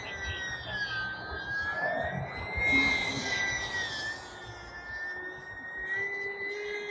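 An E-Flite UMX Timber X radio-controlled airplane on a 3S battery flies nearby, its thin electric motor whine rising and falling in pitch as it maneuvers, steady throughout.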